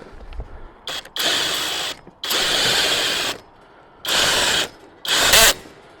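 A lawn mower lift jack, left outside for a year, ratchets upward in four loud, close bursts of rapid metallic clicking, each lasting about a second, separated by brief pauses.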